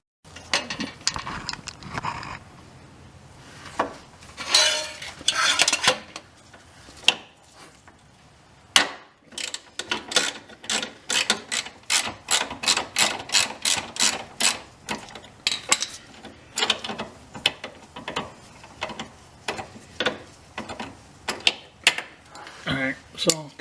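A ratchet on long extensions loosens 14 mm engine mount bolts on a Nissan S13 240SX. It makes bursts of quick, close metallic clicks, with scattered knocks and handling noises between the runs.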